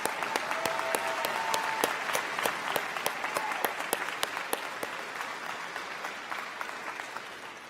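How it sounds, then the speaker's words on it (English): Audience applause at a university commencement ceremony, a steady, sustained wash of many hands clapping with sharp individual claps standing out, holding level for several seconds before gradually fading toward the end. "yes, that deserves applause."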